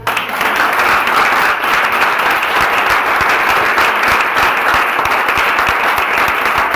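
A congregation at a church spiritual seminar breaks into loud, sustained applause, dense steady clapping filling the room without pause.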